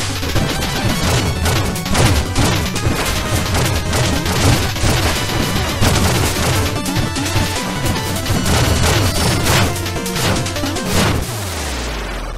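Dense, loud crashing and booming bombs in the video game Shovel Knight, a continuous barrage of hits and blasts packed tightly together over chiptune-like clutter, fading off only at the very end.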